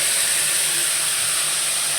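Ginger, garlic and cumin spice paste sizzles in hot oil while frying, a steady bright hiss that holds evenly throughout with no voices.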